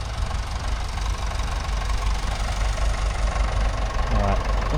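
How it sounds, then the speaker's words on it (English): Nuffield tractor engine passing at a rural show, a steady, low, knocking diesel chug heard close and continuous throughout. "See a Nuffield tractor going along here."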